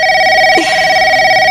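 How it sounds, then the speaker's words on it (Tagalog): A telephone rings at home with a loud, steady electronic tone, continuous and unbroken, alone and close. "Nagre-ring yung telepono natin."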